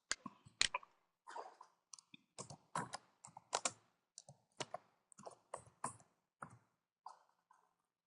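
Someone types a name on a computer keyboard, producing quiet, close key clicks in irregular short bursts with brief pauses between them and no talking.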